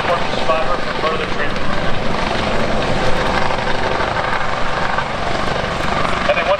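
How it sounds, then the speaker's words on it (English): A Coast Guard rescue helicopter roars steadily overhead at an air show demonstration, its thudding rotor and engine loud and close, with wind buffeting the microphone throughout. "as the helicopter you are watching today responds to distress calls"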